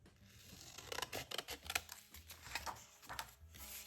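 Scissors snip through planner paper to cut out a small sticker-style piece, a run of quick, crisp close-up snips and paper rustles with no talking.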